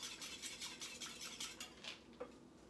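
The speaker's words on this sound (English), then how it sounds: "Just continually stirring it." Egg whites being stirred continually over heat for Swiss meringue buttercream, a steady run of soft utensil scrapes and clinks against a bowl, close and fairly quiet with no talking.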